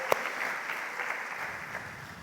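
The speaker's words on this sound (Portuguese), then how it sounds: "Vamos dar aplauso ao Senhor" Church congregation applauding, a steady wash of clapping with one sharp nearby clap at the start, moderately loud and sustained without talk.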